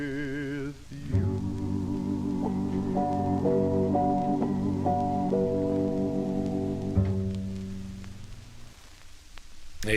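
A doo-wop 45 on the Rama label playing, a vintage vocal group record with sustained harmonized voices and steady backing, heard clearly at moderate level and fading toward the end.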